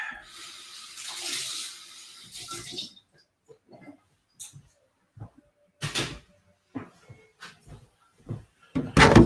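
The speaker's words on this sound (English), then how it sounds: "I want to rinse this." An object being rinsed under running tap water: a few seconds of steady, close splashing flow, then scattered short knocks and clunks with brief quiet gaps between them.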